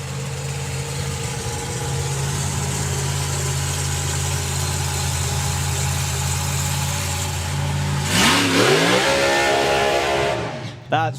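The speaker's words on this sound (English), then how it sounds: "He can't hear me now because obviously the engine's running." A nostalgia drag racing car's engine at the NSRA Nostalgia Nationals idles loudly with a steady, rumbling throb, then revs up sharply near the end before dropping back, close and dominant.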